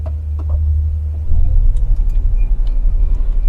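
A Nissan Kicks e-Power starts from the push button, and its engine settles into a low, close rumble that rises and then pulses steadily.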